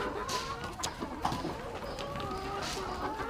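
Chickens cluck and chatter close by, several birds making short overlapping calls over a steady background hum.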